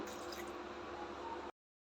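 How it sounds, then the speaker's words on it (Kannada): Water pours in a soft, steady trickle into a mixer grinder jar holding coriander and chilli powder for chicken sambar, faint and close, then stops abruptly into silence. "ಸ್ವಲ್ಪ ನೀರು ಹಾಕೋಣ"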